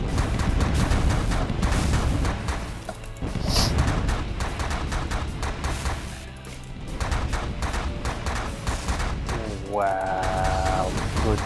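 Weapons fire from the space strategy game The Last Federation, dense and continuous shooting sounds and impacts running throughout, loud and busy, with a player talking over it much of the time.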